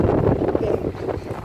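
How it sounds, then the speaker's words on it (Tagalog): Low, continuous wind buffeting a microphone, a steady rumbling roar with no clear breaks. "Masyado mahangin, eh."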